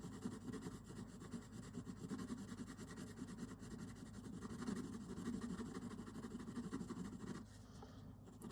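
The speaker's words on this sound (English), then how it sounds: "I'll attempt to blend them both together just with the pencils, no blending solution" Derwent drawing coloured pencils rubbed on paper to blend pigments without solvent, a steady close scratchy rasp that continues throughout, fairly quiet and without speech.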